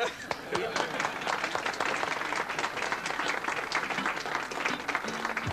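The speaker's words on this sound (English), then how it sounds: "let's give them a big hand" Sustained applause from a ceremony audience honouring German shipyard workers for converting the liner France into the Norway, dense steady clapping with some voices in the crowd throughout.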